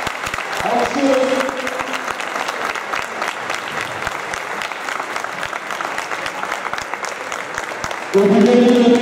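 A crowd applauds steadily at a school boys' sports medal and trophy ceremony in Ankara, with sustained clapping filling the hall for several seconds while an announcer's voice comes through at the start and end.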